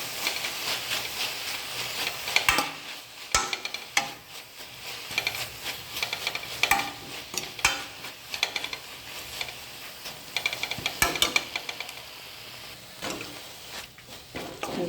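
Drumstick leaves being stirred in a hot pan, a steady scraping and rustling with a soft sizzle underneath and occasional sharper clanks of the spoon against the pan.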